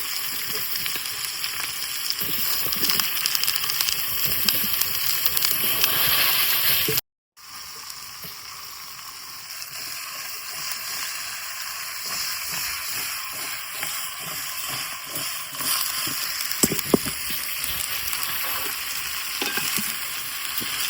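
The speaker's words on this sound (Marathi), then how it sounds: "वांग्यात जर पाणी असलं ना तो खूप सरसार करून आवाज येता" Brinjal frying in hot oil, the watery pieces giving a loud, continuous hissing sizzle up close, broken by one short silence before the frying carries on with occasional stirring.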